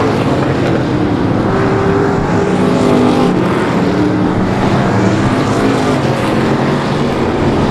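Race cars roar around the oval on the final lap at South Texas Speedway, a loud, dense, continuous engine drone with no break.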